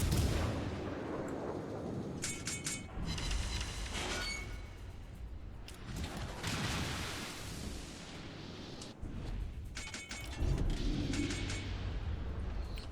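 Battleship main guns fire in World of Warships, German battleships against British ones, heavy booming salvos with long rumbling tails rolling over a constant engine and sea drone.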